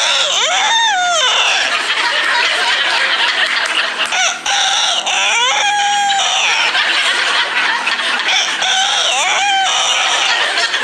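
A game-show contestant imitates a cockerel crowing, repeating the rising, strained crow several times in a row, loud and close over constant studio crowd noise.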